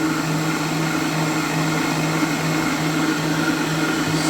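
An electric mixer runs at steady speed through cookie dough with flour mixed in, giving a loud, continuous motor whir with no pauses and no voices.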